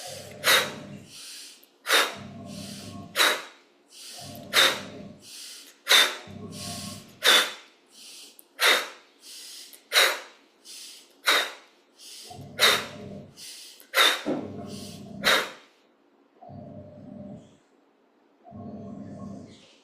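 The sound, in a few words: forceful breathing exercise, inhaling through nose, exhaling through mouth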